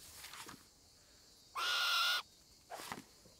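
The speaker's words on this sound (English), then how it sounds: "Horrible bird" A harsh bird call from a video game wildlife island, a single loud, grating burst of about half a second standing out between fainter chirps, with no talking.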